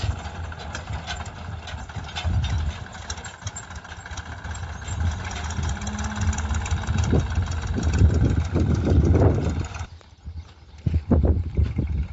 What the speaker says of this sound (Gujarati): ખાતરનું ભરાઈ અને આવે છે ટ્રેક્ટર